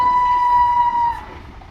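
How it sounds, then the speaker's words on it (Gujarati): A Vande Bharat train passing through Talod sounds a single long, steady horn tone loudly for about a second before cutting off, leaving low rumbling background. "રેલગાડીનો હોર્ન સંભળાય છે"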